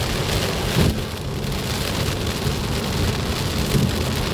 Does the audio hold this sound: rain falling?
yes